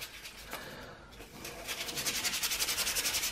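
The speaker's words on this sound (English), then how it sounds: "sand a little bit at a time on the underside of the prop." Steady rasping of sandpaper rubbing against the underside of a plastic three-blade propeller, becoming a quick rhythmic back-and-forth scrubbing in the second half, close up.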